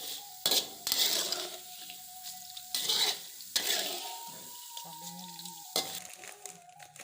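Tempe frying in hot oil in a kadai-style pan gives a steady sizzle with several sharp clinks of a metal spatula against the pan, quiet and close, with no talking.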